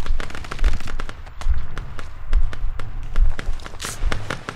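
Heavy machine gun fire in the military shooter game Squad, rapid sustained bursts of loud, sharp reports in a fast steady rhythm, with faint voices under the shooting.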